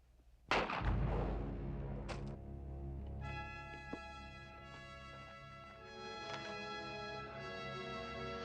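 Gunfire from a 1950s western duel: a loud, booming shot early on and a second sharper crack soon after, then sustained orchestral music.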